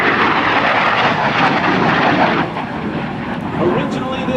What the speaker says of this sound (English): here comes your United States Marine Corps' AV-8B Harrier II.